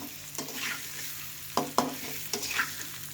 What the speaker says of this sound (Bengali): আলুগুলো দিয়ে নিয়েছি দেখুন এইভাবে ভেজে নেব